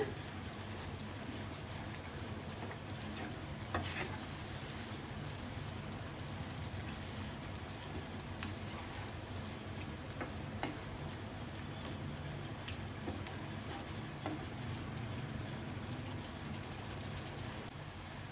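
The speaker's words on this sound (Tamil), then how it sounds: "எறாவை போட்டுடணும் நல்லா கிளறி விட்டுக்கோங்க" Prawns stirred and simmering in a peppery gravy in a pan give a steady, dense sizzle and bubbling hiss with faint scraping clicks, continuous throughout and fairly close.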